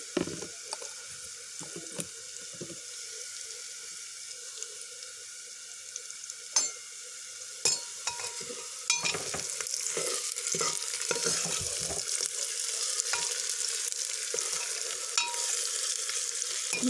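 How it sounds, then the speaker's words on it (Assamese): Onions frying in a pan with ginger garlic paste for mutton curry, a steady bright sizzle with scattered stirring scrapes and clicks, close and continuous with no talking. "মই ইয়াত আপোনাৰ আদা আৰু ৰচুনৰ পেষ্টখিনি দি দিছোঁ"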